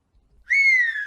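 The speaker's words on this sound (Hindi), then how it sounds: "दोबारा सीटी बजाने लगती है" A woman in a Hindi cartoon whistles a single sharp, clear note that starts abruptly and slides slightly downward, loud and alone after a brief quiet lead-in.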